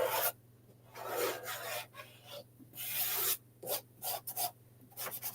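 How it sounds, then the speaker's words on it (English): Sandpaper rasps in short, irregular strokes along the edges of a small wooden craft piece, close and quiet, with brief pauses between bursts of rubbing. "just a little bit of sanding around the edges kind of gives it a little bit of that rustic look"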